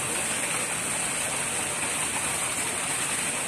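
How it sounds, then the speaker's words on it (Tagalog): Water gushes steadily from a newly installed 15 hp submersible pump and motor, a dense, continuous broadband rush like heavy rain that holds constant throughout, with no talk. "Okay, ayan, lumabas na yung tubig."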